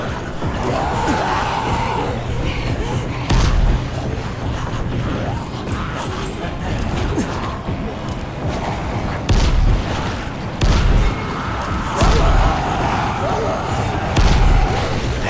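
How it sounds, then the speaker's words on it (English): Grenades go off in the Dying Light video game: several heavy thuds and booms land at irregular intervals over a busy, noisy game mix, with someone talking over much of it. "let's try grenades"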